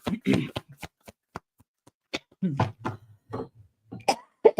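Playing cards being handled and shuffled at close range, a string of short crisp riffles and snaps with quiet gaps between them, mixed with a cough and some low vocal sounds.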